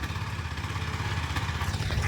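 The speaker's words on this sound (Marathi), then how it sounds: "आणि इकडं ट्रॅक्टर चालू आहे" A tractor engine chugs steadily nearby in a Konkan village, a continuous low rhythmic throb with a faint clatter and no other sounds over it.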